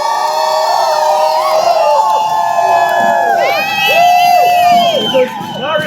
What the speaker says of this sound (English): Biggest cheer you can give to Mario